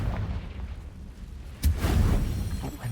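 A Confringo blasting spell from Hogwarts Legacy lands as one sudden, loud boom, followed by a rumbling low roar that carries on to the end.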